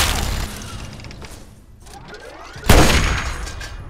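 A sniper rifle fires in Fallout 3 with a single sharp, loud crack near the end, following a stretch of noisy game ambience; no speech.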